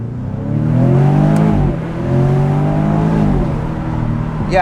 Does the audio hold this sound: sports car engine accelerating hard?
yes